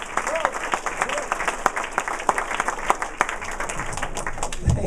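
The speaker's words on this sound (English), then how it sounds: "Huge round of applause for Joe Closer." Studio audience applause as a comedian is introduced at a stand-up comedy show, a dense, steady roar of clapping with sharp individual claps popping out, sustained throughout.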